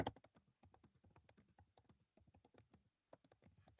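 Quick, faint keystrokes patter on a computer keyboard in short irregular bursts with brief pauses between them, close by and with no voices.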